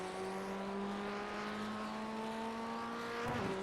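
A Ray FF1600 Formula Ford race car in the iRacing game at Rudskogen, heard as a fairly faint, steady engine drone with a held pitch and a brief shift in tone near the end.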